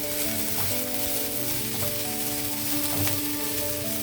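Young plantain slices frying in a pan, a steady crackling sizzle with bubbling pops, close and moderately loud, with occasional light stirring.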